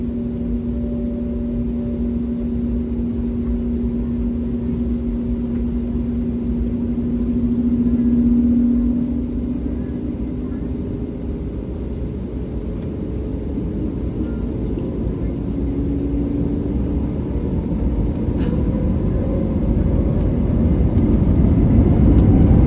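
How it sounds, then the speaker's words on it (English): An ANA airliner at Hiroshima Airport, with a typhoon approaching, heard from inside the cabin as its engines hold a steady loud rumble and drone that swells gradually throughout, with faint tonal whine on top. "we are now ready for takeoff"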